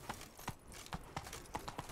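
Roach the horse from The Witcher 3: Blood and Wine, hooves clip-clopping at a gallop in a quick, uneven rhythm of about a dozen sharp, close strikes, with no talk over them.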